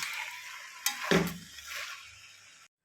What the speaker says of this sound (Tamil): கிளறி விட்டுக்கலாம்.